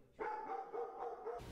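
Dogs in a backyard give a drawn-out, tonal bark-whine that starts abruptly and holds for over a second at moderate volume, with no one talking.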